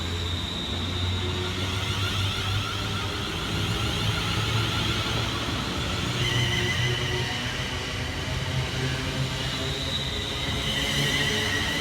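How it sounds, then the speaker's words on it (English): Class 350 London Northwestern Railway electric trains at Lichfield Trent Valley station produce a steady, loud rumble of wheels and motors with sustained whining tones, continuous throughout and with no talk. "we have 350-123 and 350-108 working the 1720 London North Western Railway service from London Euston through to Crewe"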